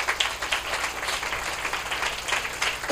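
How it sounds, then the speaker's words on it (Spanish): Church congregation applauding during a sermon, a soft, distant wash of many hands clapping steadily at low volume. "Dale un fuerte aplauso a nuestro Señor Jesucristo"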